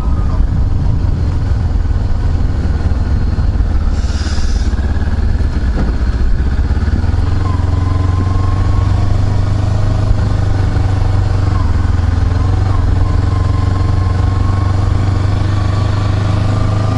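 A motorcycle engine drones steadily at close range while riding, with constant wind rush and road noise throughout.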